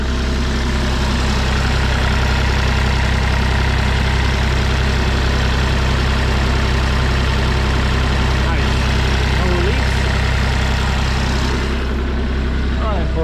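A Kubota KX040-4 mini excavator's diesel engine idles right after a fuel filter change. The low rumble is loud, steady and continuous, with a faint voice under it.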